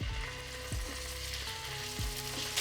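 Monkfish pieces frying in shimmering hot vegetable oil in a wok, a steady close sizzle with a few low knocks and thumps of pan movement, quiet overall.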